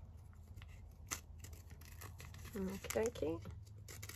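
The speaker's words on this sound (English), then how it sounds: "let's just cut out a couple of these." Scissors snip out small stamped fabric pieces for paper clip decorations with quiet, close cutting and rustling of the fabric, and a short spoken remark partway through.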